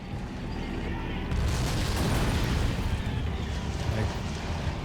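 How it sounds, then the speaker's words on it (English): Molotov and heavy artillery explosions from the war game Assault Squad 2 rumble as a dense, continuous roar of overlapping booms and crackling bursts, with a voice talking over the barrage. "I see some random Molotov explosions as well. Direct hit from the heavy artillery piece."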